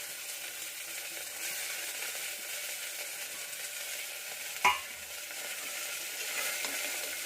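Garlic and ginger sizzle and fry steadily in a pan for kuzhambu, a continuous soft hiss with one sharp clink of a utensil midway.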